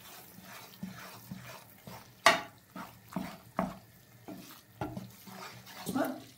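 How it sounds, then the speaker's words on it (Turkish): Flour being stirred as it toasts in a pan for Armenian kete pastry, a soft scraping and shuffling that repeats roughly once a second, with one sharper clatter, close and moderately loud. "Şimdi böyle kızartmaya başlayacağız. Unun rengi dönene kadar kavuracağız."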